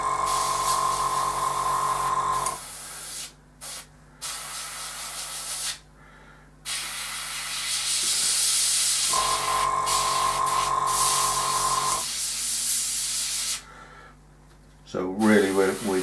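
Airbrush spraying thinned paint onto a MiG-23 scale model, heard as bursts of steady hiss that start and stop, with someone talking through much of it and a faint tonal whine during the sprays.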